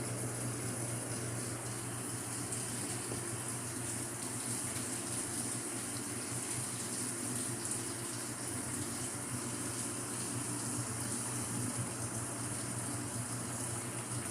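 A Samsung Active Dual Wash washing machine fills with water after detergent is mixed in, giving a steady, continuous gushing rush that stays even and fairly loud throughout, with no voices.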